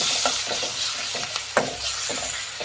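Chopped onion and tomato frying in a pan: a loud, dense, continuous sizzle broken by regular scraping stirs and one sharper knock of the spatula.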